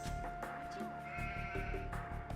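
Sheep bleating in a medieval real-time strategy game, a few short game-sound bleats over steady in-game music and ambient noise, moderately loud.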